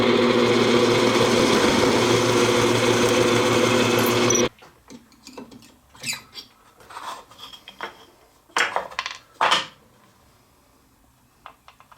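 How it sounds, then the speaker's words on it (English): A power tool cuts small wooden plugs with a loud, steady buzzing whine for about four seconds, then stops, leaving scattered clatters and light handling knocks nearby. "So we're just going to carry on and cut our plugs for this project."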